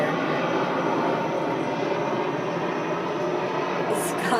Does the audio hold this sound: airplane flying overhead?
yes